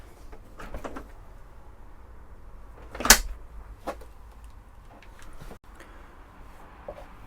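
A cupboard door in the shower area of a Chausson S697 Sportline motorhome shuts with one sharp knock, followed by a few softer clicks and taps of the door and latch in a quiet interior.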